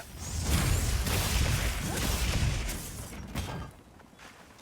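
A loud Switch Axe explosion in Monster Hunter Wilds with a whooshing blast and rumbling debris that fades toward the end.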